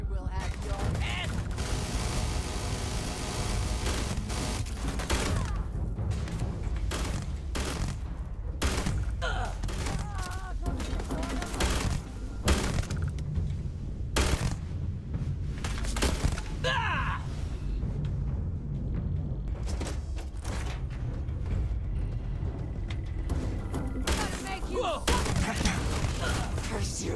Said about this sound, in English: There you go, little Tommy gun action.